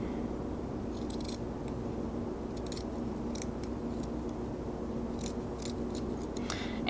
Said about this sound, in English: you're going to cut it at the heel here. I will do that like so.